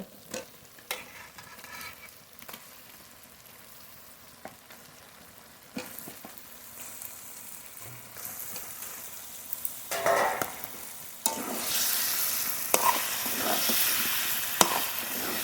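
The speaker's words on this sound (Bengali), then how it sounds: "মশলার সঙ্গে খুব ভালোভাবে মিশিয়ে নেবো" Washed meat added to cooked spice paste for Mirchi Murgh and stirred in a pan: quiet sizzle with occasional stir scrapes at first, then a louder, brighter hiss with frequent stirring in the second half, no talking.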